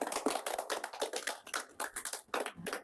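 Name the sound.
group clapping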